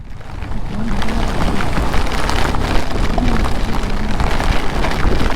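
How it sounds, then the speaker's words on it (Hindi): Heavy monsoon rain pours down in a dense, steady roar, loud and continuous with no voices. "ये देखो बारिश देखो कितनी तगड़ी हो रही है भाई"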